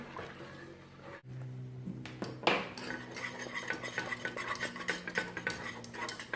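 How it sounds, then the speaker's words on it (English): A spoon stirs a flour-thickened milk sauce in a pan for mac and cheese, giving soft, close scraping and clinking against the pan in an irregular rhythm with no talking. "I'll just give that a stir and then bring that up to the boil."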